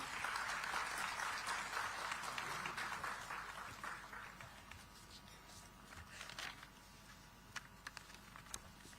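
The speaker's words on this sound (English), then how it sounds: "Let's welcome him with a warm round of applause, ladies and gentlemen" Audience applause at a staged tech event greeting the APDT ILF convener, a dense, steady roar of clapping that swells early and thins toward the end, with scattered louder claps.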